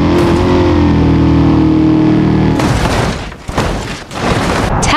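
A Corvette in the BeamNG.drive game roars loudly at high revs, then slams into a jump crash with a burst of heavy impact noise, crunching and clattering through the rest of the moment.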